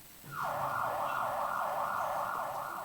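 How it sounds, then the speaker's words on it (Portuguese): An emergency fire siren starts up and wails steadily at a high pitch, loud and continuous, with a faint low hum under it. "A sirene foi acionada"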